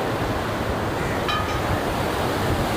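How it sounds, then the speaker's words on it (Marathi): Sea waves wash steadily onto Varsoli beach near Alibag, a constant broad surf roar heard alone without voices. "माझ्या पाठी आता बघू शकता खूप सुंदर असा समुद्र दिसत आहे"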